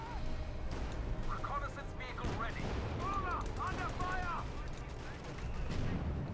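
Gunfire and booming mortar blasts from a Company of Heroes 2 battle crackle in a steady, dense barrage, with a commentator's voice running over the combat.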